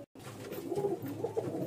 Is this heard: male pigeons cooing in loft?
yes